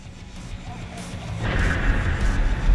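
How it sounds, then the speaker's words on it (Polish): A loud explosion blast in the video game GTA 5 under chaos mode, a sudden crash that swells into a sustained rumbling roar lasting a couple of seconds, with game ambience beforehand. "Eksplozja będzie pewnie zaraz."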